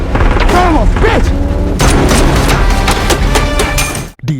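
Gunfire and booming impacts crash through a movie car chase, dense and loud, with shots, thuds and mechanical clatter layered under a shouting voice before cutting off abruptly.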